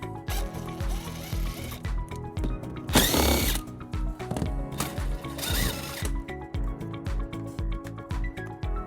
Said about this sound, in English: We're going to remove those using a 10mm socket.